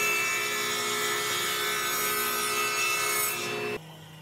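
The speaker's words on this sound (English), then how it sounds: "Then it's back to the table saw to put 45-degree miters on those new edges." A table saw cuts 45-degree miters along the edges of wooden boards, a steady, close, whining cut that holds for nearly four seconds, then drops abruptly to a low hum as the blade comes free.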